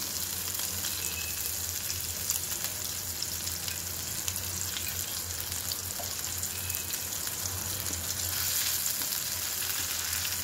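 Onion and tomato sizzle steadily in hot oil in a pan for a spiced potato slice dish, a continuous close frying hiss with faint stirring and no voices.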